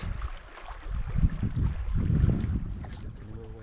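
Waves wash against a rocky canoe landing on a lake in the Boundary Waters at ice-out, giving a steady, close rush of water with wind buffeting the microphone.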